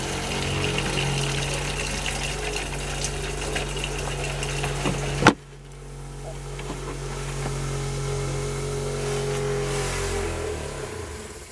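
A Roadtrek Popular 190 RV's water pump runs steadily while pushing pink antifreeze through the lines, a continuous motor hum that cuts off abruptly with a clunk partway, then a softer residual drone and faint trickling.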